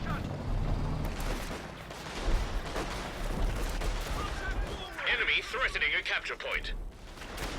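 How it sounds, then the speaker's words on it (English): Assault artillery and mortar fire in Company of Heroes 2 rumble as dull thuds and blasts under a steady game soundscape, with a voice talking over them and bright crackling bursts partway through. "Well, sounds like assault artillery on top of this mortar replacement."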